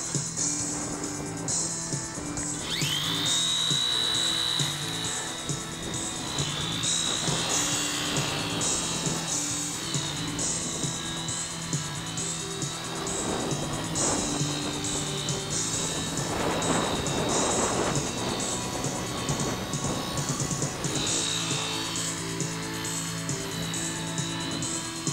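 A small single-rotor-blade helicopter with no tail rotor, flying with a steady droning and whining engine noise that holds throughout, fairly loud and unbroken, with a rising whine early on.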